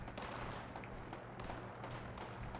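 Gunshots in Fallout 76 during a workshop defense against super mutants, a faint, distant, continuous rattle of automatic fire over a constant background din.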